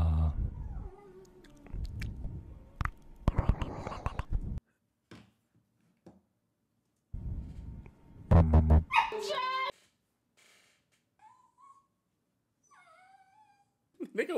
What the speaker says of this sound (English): I just heard a yelp.